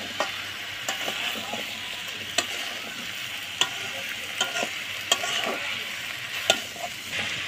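Washed vegetables fry in a pan with lightly fried fish pieces while being stirred, giving a steady close sizzle punctuated by regular scraping clicks of the spatula.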